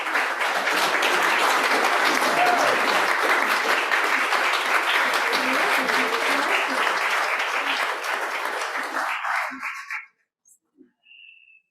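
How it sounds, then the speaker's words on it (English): Congregation applause during a church service on mindfulness, a dense, sustained round of clapping from many people lasting about ten seconds before fading out to near silence with a few scattered claps. "Let's give them a round of applause."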